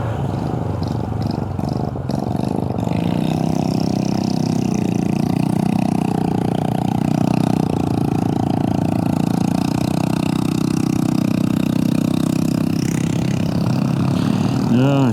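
An old pre-mix four-stroke motorcycle engine, alongside Honda CT125 and Super Cubs on a road trip, runs with a steady low putter, close and continuous, rising slightly in pitch mid-ride.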